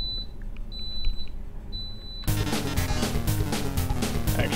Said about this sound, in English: My slow cooker just went off. You can hear the beeping.